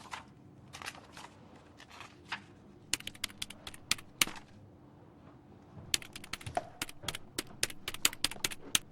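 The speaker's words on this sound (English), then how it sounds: "She's typing something on her keyboard." A librarian types on a computer keyboard in the video game Broken Sword 2.5, with rapid uneven bursts of crisp key clicks, pausing briefly and then resuming more densely, close up.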